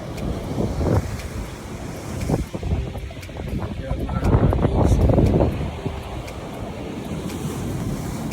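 Strong wind at Patar Beach in Bolinao, Pangasinan, buffets the microphone in gusts over the rush of surf, loud and continuous throughout.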